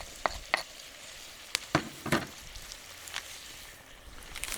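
Carrot and garlic frying in a pan, with a faint steady sizzle under a few sharp clicks and scrapes of stirring, close and fairly quiet.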